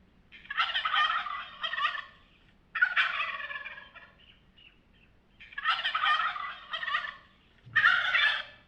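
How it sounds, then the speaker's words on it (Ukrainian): A domestic turkey gobbles loudly several times in a row, bursts of rapid gurgling calls separated by short pauses, close by. "Індик белькоче."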